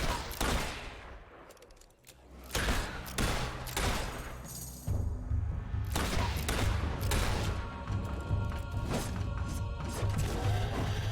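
Rapid bursts of gunfire in Fable III as Balverines are shot down in a cave, loud repeated volleys with thuds and crashes running almost continuously, no talking.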